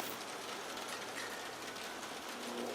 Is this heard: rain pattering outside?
yes